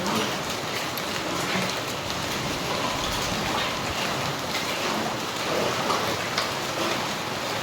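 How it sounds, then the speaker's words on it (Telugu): Hail and rain pour down in a dense, continuous patter of small impacts close by, steady and fairly loud with no voices. "వడగండ్ల వాన పడి టప్ టప్ టప్ సౌండ్ భలే వస్తుంది"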